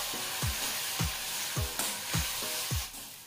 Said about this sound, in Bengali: এবারে এই সমস্ত মশলা ভালোভাবে কষিয়ে নেব।